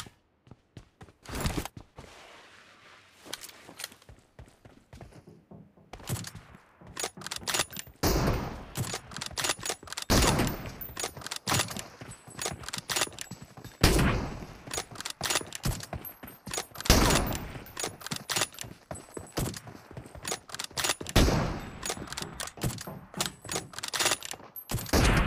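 Rapid bursts of gunfire in PUBG Mobile, including sniper shots from an M24, crack loudly and repeatedly in dense volleys and scattered single shots, with brief gaps and shell-like clinks, close and without speech.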